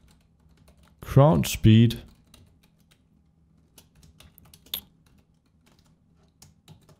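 Keys clatter on a computer keyboard as code is typed during a Unity game tutorial, a scattered run of light clicks at close range after a short stretch of talk.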